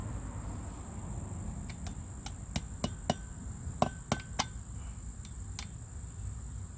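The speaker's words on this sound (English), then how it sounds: "we'll just tap it in with an hammer" Several sharp metallic hammer taps strike a bearing race into place on a 1999 Ford Ranger XLT V6 front hub, in an irregular run with a couple of close pairs, over steady background hum.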